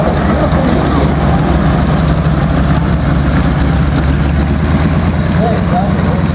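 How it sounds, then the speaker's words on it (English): A formation of T-6 aircraft with radial engines passes low at an airshow at Columbus Air Force Base, Mississippi, producing a loud, constant deep pounding drone that fills the whole stretch without a break. "You can feel those radial engines pounding right in your chest as these guys go by."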